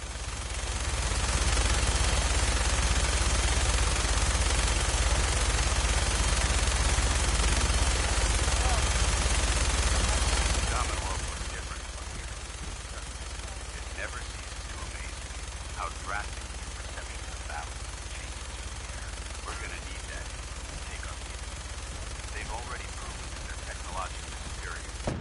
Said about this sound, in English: minigun in front of you is loaded and ready to fire